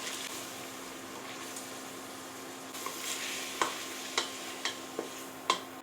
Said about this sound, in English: we're going to want to add our flour into the beef, and then we're going to allow it to cook for about a minute